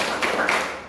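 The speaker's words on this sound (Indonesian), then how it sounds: "Yuk, tepuk hebat." A group does a short rhythmic 'tepuk hebat' clap in an Indonesian school guidance session, a couple of quick, close, fairly loud unison claps in under a second.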